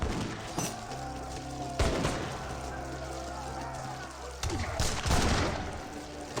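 A musket volley in the real-time strategy game Age of Empires 3 breaks out as several crackling, booming bursts of rippled shots over a steady low game hum, with the loudest at the start, middle and near the end.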